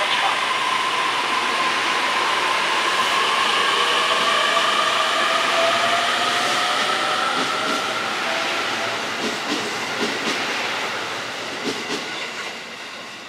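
Commuter train on the Ueno-Tokyo Line pulling away from a station platform, a steady loud rumble and whine with faint clicking wheels that slowly fades as it departs, with station announcements in the background.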